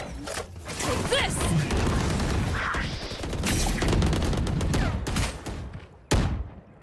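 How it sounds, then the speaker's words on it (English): Rapid gunfire bursts and clicking weapon mechanics during a Valorant esports match between Sentinels and EG, dense and continuous with a sharp shot near the end, under faint talk. "Shoot, shoot. Headshot."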